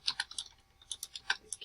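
Someone types on a computer keyboard, a quick, uneven run of close, crisp key clicks with short pauses between bursts, in a quiet room with no voices.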